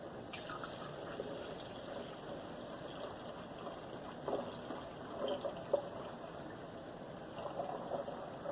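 Water poured through a funnel while preparing homemade wine with sugar, a continuous faint trickling and gushing stream lasting several seconds, quiet and steady with small splashy bursts.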